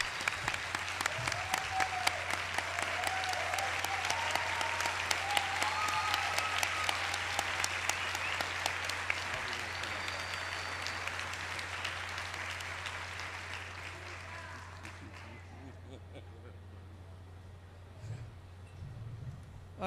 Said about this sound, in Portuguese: Dar a ela a salva de palmas que ela merece por ter se erguido contra esse assinte